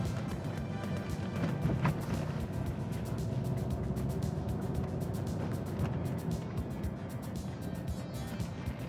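A Mercedes-Benz 500SEC AMG with a V8 engine hums steadily and quietly while driving, a muted, continuous low rumble with road noise, close and even throughout.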